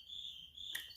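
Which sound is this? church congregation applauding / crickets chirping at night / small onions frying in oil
crickets chirping at night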